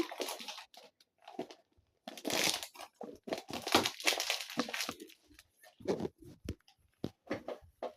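A Feastables chocolate bar wrapper is torn open and crinkled by hand, close up, in a string of sharp crackling and crumpling bursts with brief pauses between them.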